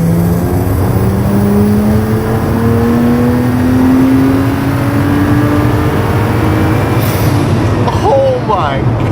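BMW fitted with a carbon fiber wing accelerating hard in third gear, a loud rising engine note climbing steadily in pitch, heard close from inside with road roar underneath and a voice exclaiming near the end.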